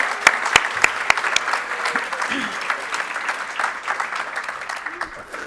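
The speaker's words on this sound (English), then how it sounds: "can we at least give a special round of applause?" A crowd at a peace conference applauds steadily with scattered sharp claps, a lively round of clapping that continues throughout.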